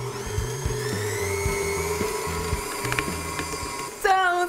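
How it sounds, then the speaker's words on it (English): Electric hand mixer beating eggs and caster sugar at medium-high speed for brookie batter, a steady close whirring motor with a pitch shift near the end. "I'm going to beat that together on medium to high speed for about 3 to 5 minutes"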